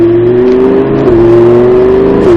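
A Lamborghini on the Montlhéry circuit roars hard under acceleration, a loud, close, sustained engine howl with a steady high tone that dips once as the revs shift and then holds on.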